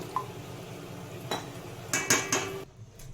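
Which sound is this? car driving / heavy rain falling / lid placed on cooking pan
lid placed on cooking pan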